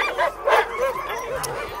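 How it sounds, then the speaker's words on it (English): A bunch of sled dogs at a race start yip, bark and whimper together in an excited, overlapping chorus, fairly close and continuous. "Bunch of dogs right there."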